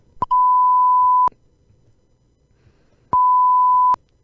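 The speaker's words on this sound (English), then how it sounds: "we'll just beep it out" Two loud, steady censor bleeps, a pure electronic tone each lasting about a second, separated by a quiet gap, with faint room noise between them.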